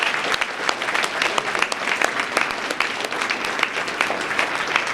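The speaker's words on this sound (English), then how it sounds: "Can we give them a round of applause as well?" Parents and families being applauded at an elementary school district MLK essay contest; a full, crisp round of clapping from a sizable audience, sustained and fairly loud with sharp individual claps standing out.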